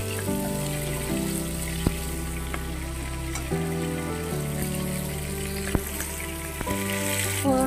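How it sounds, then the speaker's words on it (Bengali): Garlic and turmeric tempering sizzling steadily in hot oil for a Bengali kochu shak dish, a dense continuous frying hiss with a few sharp crackles and pops, close and fairly loud, with a low tonal hum running underneath. "এটাকে আমি আগে ভেজে নেব"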